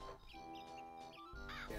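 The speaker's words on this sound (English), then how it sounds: "here's the bird" A bird in the video game Banjo-Kazooie gives short, raspy calls in quick bursts over a bed of game music. The calls are faint and close by.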